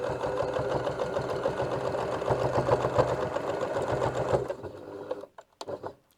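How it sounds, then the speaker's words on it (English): A sewing machine stitches fabric for a laundry bag in a fast, even whirring run that ends after about four seconds, then pauses with a few quieter handling sounds. "So sew a little bit, stop and readjust it,"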